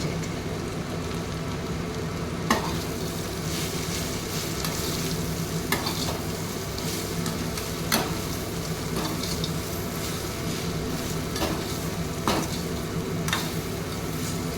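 Bitter gourd with sesame is stirred and mixed in a hot frying pan, giving a steady sizzle under occasional scraping taps of the spoon against the pan, with no talking.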